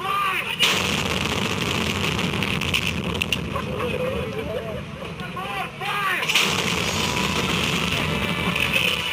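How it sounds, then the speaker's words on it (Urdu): Booming artillery fire of a 21-gun salute marking Pakistan's Independence Day in the federal capital, loud, continuous rumbling blasts with reports near the start and again later, crowd or voices faintly audible underneath. "اس موقع پر وفاقی دارالحکومت میں 21 توپوں کی سلامی سے دن کا آغاز کیا جاتا ہے۔"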